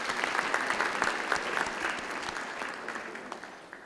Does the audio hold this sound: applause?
yes